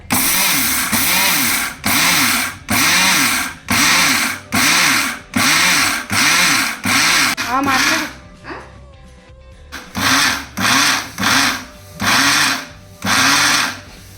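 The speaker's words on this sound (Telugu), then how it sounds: "నువ్వు పప్పు వేసుకోవాలా పప్పు ఇలా మిక్సీ పెట్టేసుకోవాలి మెత్తగా" A kitchen mixer grinder grinds sesame seeds for a traditional mango pickle, running in loud pulsed bursts of about a second each with short pauses, a longer gap midway, then more on-off pulses.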